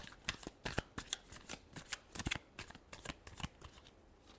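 Tarot cards being shuffled by hand, a quick run of crisp riffling flutters and soft slaps repeating close to the ear with no voices.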